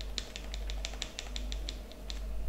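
Someone types on a computer keyboard, a quick run of about a dozen light, crisp key clicks at a fairly even pace over a low background hum.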